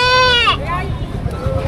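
A goat at a livestock market lets out a loud, close, wavering bleat that breaks off after half a second, with a second shorter bleat after it, over the steady murmur of the crowd and people talking.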